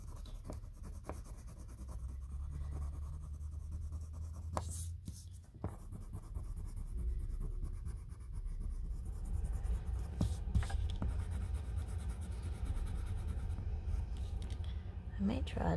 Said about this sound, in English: And I'm going to color this whole square blue.